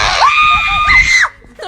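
A young person lets out a loud, high, piercing scream right at the microphone, held for about a second with a rising then falling pitch before cutting off, with faint background chatter.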